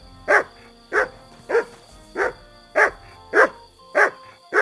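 A dog barks steadily in the video game Kingdom Come Deliverance 2, about eight evenly spaced, mid-loud barks over a faint background hum, with no talking.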